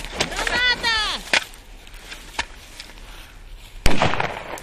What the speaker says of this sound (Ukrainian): Граната! Залягай!